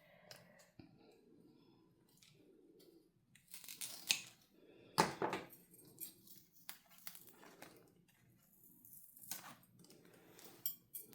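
Pruning shears or a knife snip through a thick dumb cane (Dieffenbachia) stem for propagation, giving a few sharp crisp cuts around the middle, close and clear amid quiet handling and rustling.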